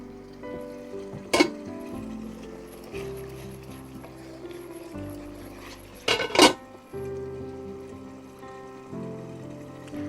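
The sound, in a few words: stirring masala in a covered cooking pot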